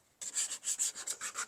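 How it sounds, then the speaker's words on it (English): A packing-foam sanding block rubbing across a repaired guitar headstock gives quick, close, rhythmic scratchy strokes, starting abruptly after a brief silence, with no talking. "you can make nice little sanding blocks with packing foam. You don't have to use your fingers. And it just gets in there and makes nice contour"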